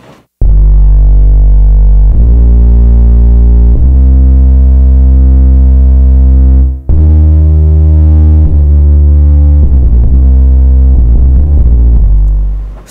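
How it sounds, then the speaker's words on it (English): Synth bass line added for fullness and thickness in a studio production of an electronic track, playing alone as sustained, loud low notes changing pitch every couple of seconds with a brief gap midway. "so I added the synth bass line."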